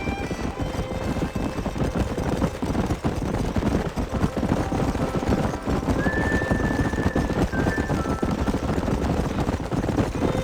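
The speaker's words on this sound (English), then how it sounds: "There's the horses!" Horses in the Western game Red Dead Redemption give steady clip-clopping hooves and a neigh partway through, heard over a dense layer of ambient game sound.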